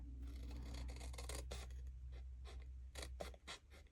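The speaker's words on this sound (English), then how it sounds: "So we're just going to cut up here, right to the fold line." Scissors snip through folded card stock in quick, close, crisp bursts, cut after cut with brief pauses, while making a pinwheel card.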